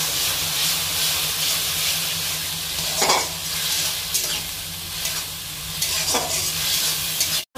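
Onion with ginger-garlic paste fries in a pan with a continuous hissing sizzle and a few sharp scrapes of a spoon stirring against the pan.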